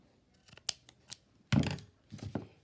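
Scissors snip through flowered lace trim: a few quiet, crisp cuts, then a louder burst of rustling snips near the end, close up with no talking.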